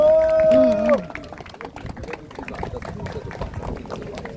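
Crowd applause welcoming lawmakers into a youth supporters' meeting at Suseong Pond in Daegu, a steady wash of many hands clapping after a brief amplified voice at the start.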